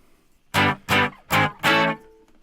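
Four distorted electric guitar chords strummed in a steady rhythm, each with a gritty, crunchy breakup, loud and close with brief gaps between.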